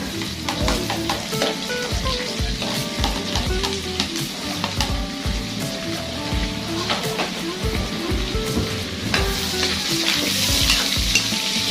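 Garlic and ginger sizzle loudly in hot oil with onion added, a dense continuous crackle broken by repeated clinks and scrapes of a spatula stirring in the pan, close and steady throughout.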